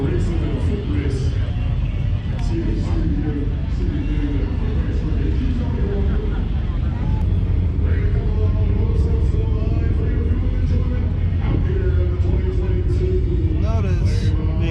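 Four motorcycles racing at Flabob Airport in California, a steady loud roar of engines throughout with shifting pitch as the bikes pass, and someone talking over the noise.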